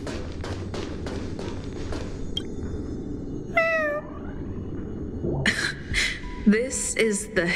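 A cat meows several times in Honkai Star Rail: a clear, wavering meow midway, then more rising mews near the end, over a steady game backdrop of soft repeated taps and thumps.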